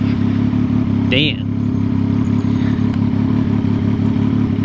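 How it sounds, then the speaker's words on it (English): Loud, unmuffled exhaust drones steadily from a vehicle in traffic with no exhaust system, a close, constant engine rumble, while a person speaks briefly over it. "Listen to that fucking exhaust, baby."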